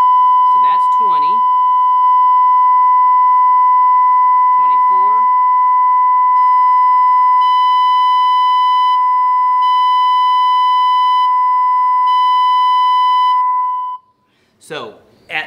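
A steady test tone played through a car audio amplifier as the gain is raised, running as a sustained pure beep with harmonics that turn into a harsh high-pitched squeal from clipping; brief speech is heard at the start and end.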